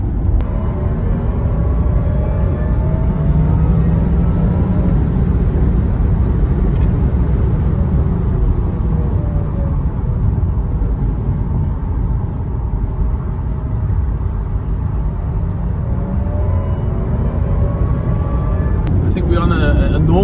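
A 2020 Porsche Taycan Turbo S accelerates, heard from inside as a steady, continuous rumble of road and drive noise that holds at a fairly loud level for about twenty seconds.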